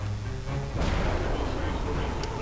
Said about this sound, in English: And the plasma cannon once again does its work.